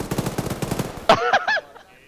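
A PKM machine gun fires a rapid, steady burst during a military field exercise, loud and close, then cuts off as brief shouted voices follow.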